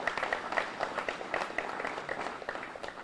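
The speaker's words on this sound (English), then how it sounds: "Give yourselves an applause." An audience applauds at an airport terminal event, soft and fairly distant scattered clapping that stays even throughout.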